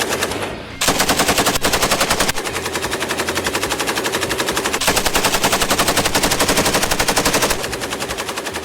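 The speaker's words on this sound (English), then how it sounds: "the FN Mag, short for General Purpose Machine Gun in French, is one of the most widely used machine guns in the world" FN MAG M240 general purpose machine gun, Belgian-made, firing long sustained bursts of rapid, evenly spaced loud shots, with brief pauses between bursts.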